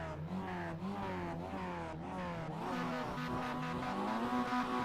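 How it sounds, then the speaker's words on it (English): A Mazda MX-5 in the iRacing video game revs repeatedly on the grid at Oulton Park before a race start, its engine pitch rising and falling in a loud, close series of throttle blips. "He's revving his engine"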